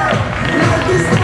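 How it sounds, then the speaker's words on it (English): An audience at a WBFF fitness show claps and cheers in a loud, continuous roar of crowd noise, with voices mixed in. "Let's give a big round of applause, Fleur"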